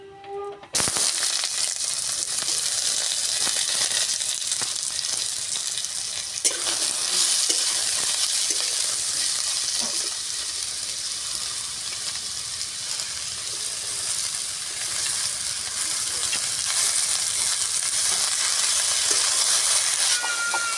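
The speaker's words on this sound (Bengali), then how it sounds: "সব সবজি ভেজে নেব।" Vegetables frying in a wok of hot oil, with cabbage, potatoes and carrots among them, a loud continuous sizzle that starts abruptly and holds for about twenty seconds, with occasional stirring scrapes and no talk.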